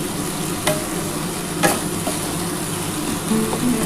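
Masala for an egg omelette and potato curry stir-fried in oil until the oil separates, a steady close sizzle broken by sharp spatula scrapes and clinks against the pan.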